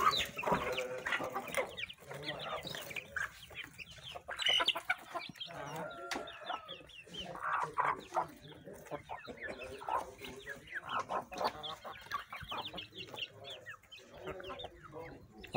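Chickens clucking while eating at a rural family homestead, a continuous busy chorus of soft clucks and murmurs from several birds close by, with faint voices mixed in.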